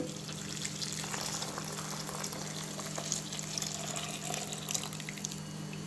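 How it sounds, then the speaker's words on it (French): Boiling milk pours into cannelé batter in a steady, soft liquid stream, a faint continuous pouring and splashing with no talk. "On verse le lait bouillant dans la préparation."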